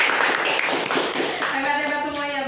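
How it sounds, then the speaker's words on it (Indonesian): A group of students in a school counseling session claps their hands together in a short, quick burst of rapid claps, followed by a voice speaking. "tepuk tangan dulu"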